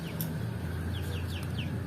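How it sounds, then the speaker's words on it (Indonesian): A chicken makes a few soft, high clucking calls spaced across under two seconds, fairly quiet over a steady low hum. "Wow, ada ayam teman-teman. Wow, itu ayam asli teman-teman."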